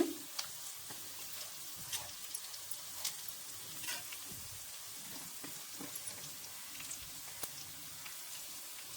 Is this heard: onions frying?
yes